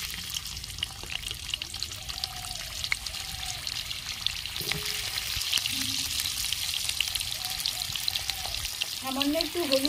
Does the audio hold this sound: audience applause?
no